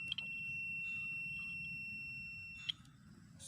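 A steady high-pitched electronic buzzer tone from a multimeter's continuity test sounds continuously for about two and a half seconds, with faint clicks at its start and end.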